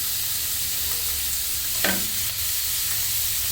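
Mixed vegetables with cashew paste and black pepper fry and get stirred in a pan, a steady close sizzle with a low hum beneath and one brief scrape of the spoon midway.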